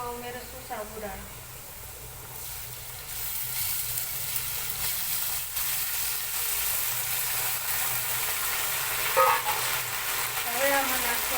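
Sabudana added to a pan of browning potatoes and peanuts over low gas, giving a steady, loud sizzle and fry hiss with occasional stirring scrapes, while a voice speaks now and then.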